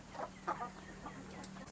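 Kadaknath rooster and hens on an egg-producing farm, giving a few short clucks and bird calls, faint and somewhat distant against a low steady hum, with no talk.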